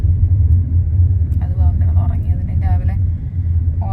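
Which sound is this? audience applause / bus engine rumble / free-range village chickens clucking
bus engine rumble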